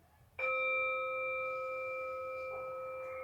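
A single meditation chime struck once at the start of mindful breathing in a children's yoga class, a clear bright ring with a sharp onset that sustains and slowly fades, heard alone in a quiet room.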